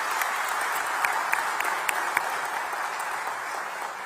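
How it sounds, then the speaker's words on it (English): A crowd's round of applause welcoming dignitaries at the inauguration of a Tech Mahindra digital delivery center in Nagpur, a steady dense patter of many hands that holds at an even level throughout. "Let us welcome our dignitaries with a round of applause."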